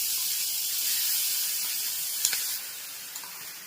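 A loud, even hiss of ginger and chili paste sizzling in hot oil, easing slightly partway through, with a couple of faint clinks.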